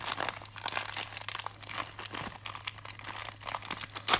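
Plastic and cardboard Funko Pop packaging crinkles and crackles continuously up close, a steady scrunching rustle of fingers working at the box with no talking.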